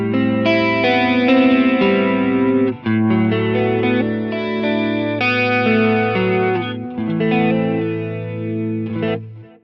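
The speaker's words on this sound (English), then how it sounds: "it makes it sound like a chorus effect" Electric guitar chords played through a Mooer Pitch Box pitch shifter, the shifted voice blending with the dry tone into a shimmering, chorus-like doubling; sustained strummed chords ring out continuously for several seconds, clear and close with no talking.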